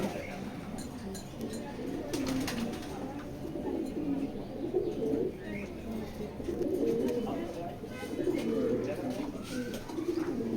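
Racing pigeons cooing steadily in a loft, soft repeated low coos overlapping throughout with occasional wing flutters, while someone talks over them.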